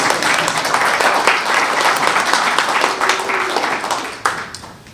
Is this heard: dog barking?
no